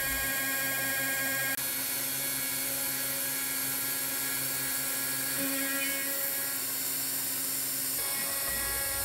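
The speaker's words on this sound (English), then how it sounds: "And here we're machining the big slot." A CNC mill cuts a large slot in a part for a drill press motor mount, giving a steady high-pitched machining whine with strong tonal harmonics that shifts near the start and end, loud and continuous with no talk.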